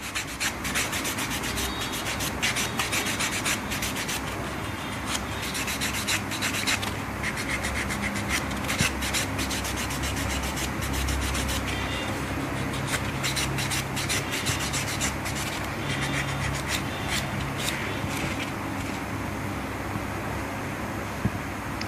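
A nail buffer rubs back and forth across fingernails during a manicure, making a continuous close scratchy swishing with quick rhythmic strokes and no talk.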